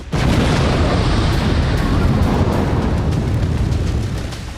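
A GBU-57 Massive Ordnance Penetrator bunker-buster bomb detonates with a sudden loud blast that swells into a sustained, heavy roaring rumble lasting several seconds before slowly easing off.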